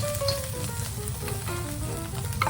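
Scrambled egg sizzles and fries among fried rice in a hot pan, a continuous close crackle with faint stirring scrapes and no talking.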